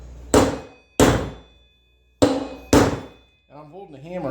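A 4-pound hammer drives a wheel bearing into a Moto Iron springer front end, four heavy separate thunks struck near and loud in two pairs, followed by a brief burst of talking.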